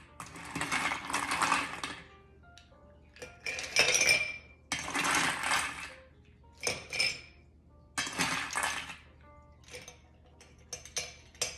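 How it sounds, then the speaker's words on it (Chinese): Ice cubes drop into a highball glass in several separate bursts, clinking and rattling sharply against the glass with short pauses between each scoop, close and clear. "用一个高球酒杯加入冰"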